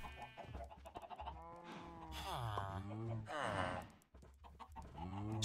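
Hen-like clucks and squawks from Minecraft chickens come in short bursts, close and fairly loud, with no voices over them.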